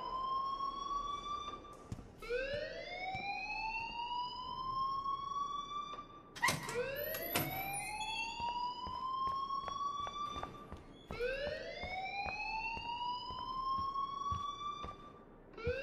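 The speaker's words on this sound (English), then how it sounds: "please turn off that alarm since that's your job." A rising and falling alarm siren wails repeatedly inside the Life is Strange video game, each sweep climbing then holding, moderately loud over a busy background, with sharp clicks between cycles.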